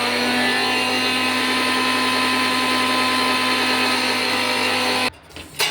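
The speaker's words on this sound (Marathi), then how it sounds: "तुम्ही पण असंच मिक्सरवर काढता का?" A kitchen mixer churns stored cream into butter for making ghee, a steady loud whirring drone that runs unbroken and then cuts off abruptly near the end, followed by a brief clatter.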